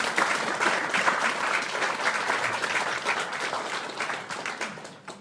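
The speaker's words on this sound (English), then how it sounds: "So give Caroline a warm round of applause and we'll have a quick chat." An audience applauds at a lecture on age-friendly housing and rightsizing, a dense, steady wash of many hands clapping, fairly loud and sustained throughout before tapering at the very end.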